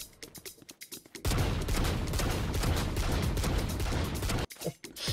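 Outlaw sniper rifle fire in the game Valorant comes as a dense, loud barrage of about three seconds, with scattered sharp single shots and clicks before and after it.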